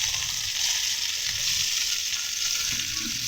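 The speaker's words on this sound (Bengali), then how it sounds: "এরপর আমি ভেজে নিচ্ছি।" Chicken pieces coated in turmeric, salt and chili fry in hot oil, sizzling steadily and fairly loud from start to end, with faint stirring scrapes and no talking.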